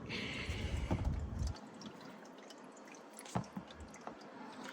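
Engine oil drains from the oil pan of a 2018–2022 Toyota Camry SE, a liquid pour that stops early and leaves faint drips and small taps against a quiet background.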